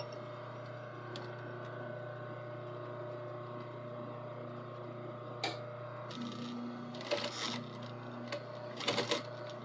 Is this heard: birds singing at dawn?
no